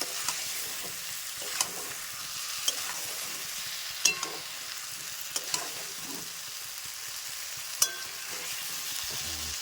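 Egg curry ingredients, with eggs and a little coriander leaf, are stirred in a hot pan, giving a steady sizzle broken by sharp spatula scrapes and taps at irregular intervals.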